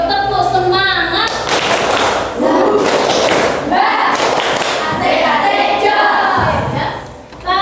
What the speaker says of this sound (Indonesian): Sebelumnya kita tepuk semangat dulu ya, biar tidak ngantuk ya.